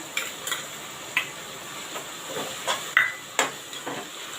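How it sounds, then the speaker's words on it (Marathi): Onion, tomato and a ginger-garlic paste with coriander and mint fry in a pan for prawn biryani, giving a soft steady sizzle punctuated by several scraping stirs at irregular intervals, close and with no talk. "कांदा टोमॅटो आपला चांगला फ्राय होतो आहे"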